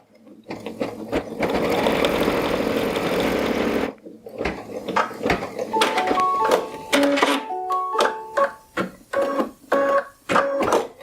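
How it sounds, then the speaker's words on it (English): Embroidery machine stitching an appliqué placement line, a steady loud mechanical whir for about four seconds, then a run of start-stop bursts and short stitching spurts with pauses between. "And put the presser foot down, press go."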